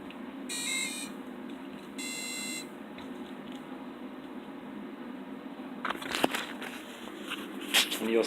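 A beeper add-on on an APM flight controller gives two short, loud, tonal beeps close by, followed by faint clicks and crackles over a steady background hum.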